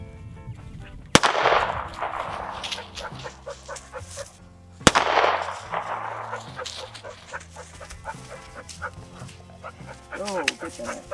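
Two sharp handgun shots, about four seconds apart, fired into resin-soaked denim jeans; each crack is loud and close, followed by a brief ring. Background noise and clatter continue between the shots.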